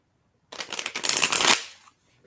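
Tarot cards being shuffled by hand during a live reading, a close, loud burst of rapid riffling flutter lasting about a second, then quickly fading to quiet.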